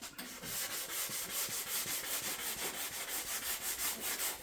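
Hand sanding with 240 grit sandpaper wrapped on a flexible pad during car bodywork repair, a close rhythmic scratchy rubbing of quick repeated back-and-forth strokes.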